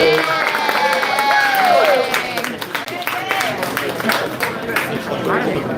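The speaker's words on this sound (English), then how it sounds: "Let's give him a huge round of applause." Crowd applause and cheering for the champion of a sushi eating contest, a steady burst of clapping mixed with voices and chatter that stays loud throughout.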